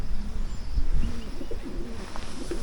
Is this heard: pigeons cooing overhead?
yes